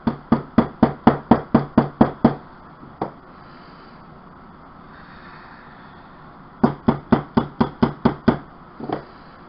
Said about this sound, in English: Hammer it down. You can hammer these down also.